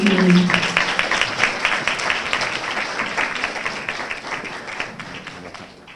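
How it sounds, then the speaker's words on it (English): Audience applause at a spring 2023 departmental graduation ceremony for mathematics, computer science and physics, many hands clapping steadily in a hall, starting with a brief voice and tapering off gradually. "All right, let's give Ms. Cason another hand of applause."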